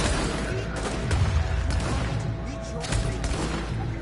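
Sniper fire and dense gunfire in The Division, a continuous loud wash of shots and rumbling blasts with a few sharper cracks standing out.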